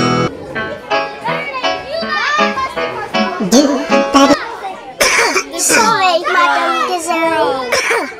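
A cartoonish character coughs repeatedly in short bursts between lively animated voices speaking and exclaiming.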